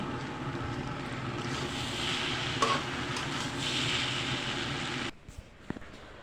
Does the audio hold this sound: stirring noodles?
yes